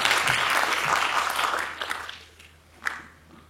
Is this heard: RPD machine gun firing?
no